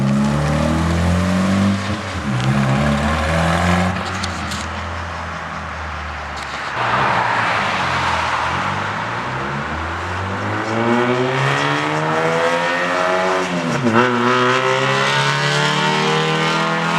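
A second-generation Mitsubishi Eclipse engine runs and drives close by, its pitch rising and falling through several loud revs and gear changes with steady road noise in between.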